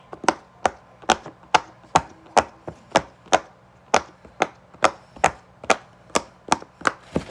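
An orange fidget toy clicked on its loud side, about eighteen sharp, evenly spaced snaps ringing out alone and close.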